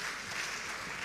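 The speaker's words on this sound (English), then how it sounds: "Members, can we give a hand clap to Tororo?" Applause from conference members for Tororo Girls' School at a national communications conference, a dense, even wash of many hands clapping throughout a short burst.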